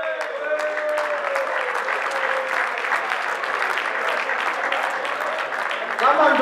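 A crowd at a closing ceremony applauds and cheers a team, sustained dense clapping with scattered shouts throughout and a voice calling out over it near the end.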